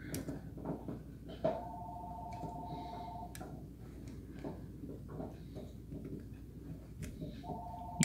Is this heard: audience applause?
no